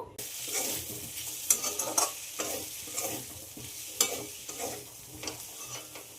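Tomato curry with turmeric, coriander and cumin powder is stir-fried in a pan, producing a soft continuous sizzle broken by rhythmic scraping strokes and a few sharp spoon clinks.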